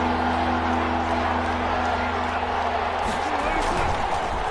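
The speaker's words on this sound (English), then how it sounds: "The crowd getting into it as we come up on a big third down." Crowd cheering in a football video game ahead of a big third down, a steady roaring wash of stadium noise with a low hum underneath, loud and continuous.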